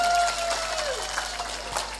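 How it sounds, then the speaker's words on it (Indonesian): Light applause from a crowd patters along under a faint tone that slides downward, moderately quiet throughout. "tepuk tangan dulu dong"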